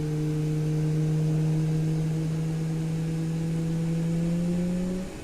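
Boeing 737-8 MAX engines in Microsoft Flight Simulator give a steady, loud droning hum with a strong sustained tone that rises slightly toward the end before fading out.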